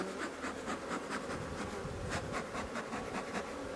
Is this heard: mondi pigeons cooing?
no